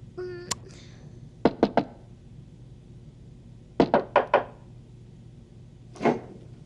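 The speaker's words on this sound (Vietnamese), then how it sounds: "Gõ cửa đi." Knuckles rap on a wooden door in three quick bursts: one triple knock, then a group of four, then a single knock, close and clear against a quiet room with a brief faint voice at the start.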